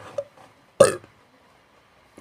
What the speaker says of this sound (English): That burp was gross.